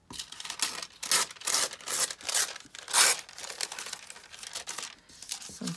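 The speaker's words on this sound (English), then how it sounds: "take your ruler and just do some torn edges" Sheets of thin deli paper being torn by hand along a ruler's edge to make ragged edges, a series of close, crisp ripping and crinkling bursts in irregular rhythm, with no talking.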